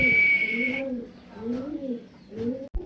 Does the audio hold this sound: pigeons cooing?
yes